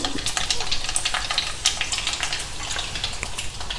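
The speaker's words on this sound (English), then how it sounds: "Now heat about 3 tablespoons oil in a pan. Add some mustard seeds, urad dal, just 1 dry red chilli," Mustard seeds, urad dal and a dry red chilli sizzle and crackle in hot oil in a pan, a steady close frying hiss with sharp popping spatters throughout.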